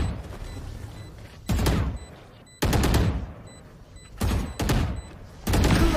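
Gunfire in the Valorant video game: several loud bursts of rapid automatic shots separated by short pauses, with faint game interface tones between them.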